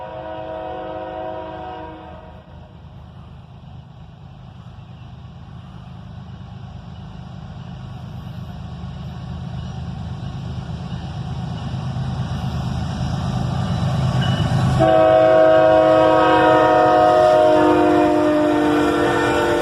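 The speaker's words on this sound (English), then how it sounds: "Another pair of ES44 ACHs leads this northbound manifest train, speeding up now" A heavy northbound freight train led by a pair of ES44AC diesel locomotives rumbles past, speeding up, its droning engines growing louder, then a loud multi-tone horn sounds near the end.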